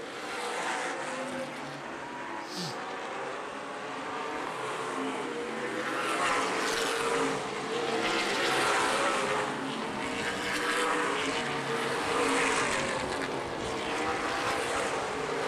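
Race cars roar around the Angola Motorsport Speedway oval during the 2014 Al Cook Memorial 88, a loud, continuous wall of engine noise that swells and fades as the pack passes, with no talk over it.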